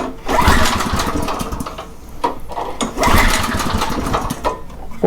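Craftsman rototiller engine with a dirty carburetor running at half choke, a loud, close, uneven sputtering roar that surges and dips in bursts.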